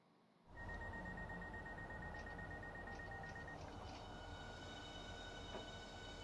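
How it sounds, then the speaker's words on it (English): A high-speed train pulls in alongside another at Stratford International station, rising from silence into a loud, continuous rumble with a thin tonal whine and light wheel squeal close by. "Leaving Stratford International, I hear a train pulling in next to us"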